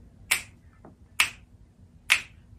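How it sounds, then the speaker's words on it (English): Three crisp finger snaps, evenly spaced about a second apart, close and loud against a quiet background, each with a faint softer tap between. "Can you snap it?"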